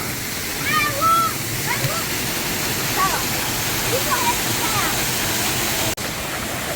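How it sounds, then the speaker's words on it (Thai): Water rushes continuously over the upper tier of a waterfall at Rim Moei, a steady close wash with a few thin bird chirps above it and a brief dropout near the end. "อันนี้ด้านบนนะครับน้ำตกด้านบน"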